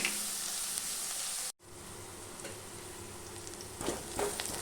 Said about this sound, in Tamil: இந்த வெங்காயம் நல்லா வதங்கி வரட்டும்.